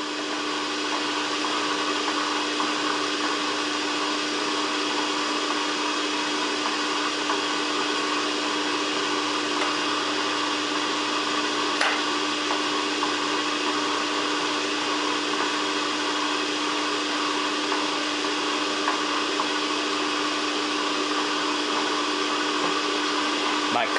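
A Bridgeport milling machine fitted with a shaper attachment cuts a keyway, giving a steady motorized hum with a constant tone and faint rhythmic texture, loud and unbroken throughout.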